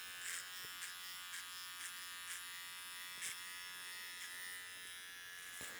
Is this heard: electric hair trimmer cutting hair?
yes